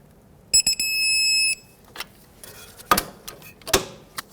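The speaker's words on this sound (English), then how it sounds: "Let's snug it up and then we'll torque it." A torque wrench tightens a front strut mount nut to 55 foot-pounds on a 2003-2008 Toyota Corolla, giving a steady electronic beep followed by two sharp, close metallic clicks in a quiet garage.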